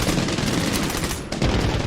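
Heavy automatic gunfire from a big gun in Medal of Honor: Warfighter, a dense, continuous rattle of rapid shots, loud and close, with a brief lull near the middle before it resumes.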